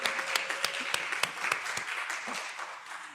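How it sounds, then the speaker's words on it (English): A church congregation applauds at a worship service, many hands clapping in a dense, even burst that fades slightly over about three seconds. "another round of applause in the last time for Kevin"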